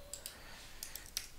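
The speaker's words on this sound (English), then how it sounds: "Click on edit, test," Computer mouse clicks while working in the AWS console, a handful of short, sharp, quiet clicks scattered across a brief, otherwise still moment.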